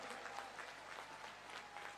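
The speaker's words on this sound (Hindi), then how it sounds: "जोर से ताली बजाओ सिद्धार्थ जी के लिए जरा" Crowd applause for Siddhartha Bhattacharya at an Assam political rally, a dense, steady patter of many hands clapping at once, heard from a distance and fairly faint, with no voices over it.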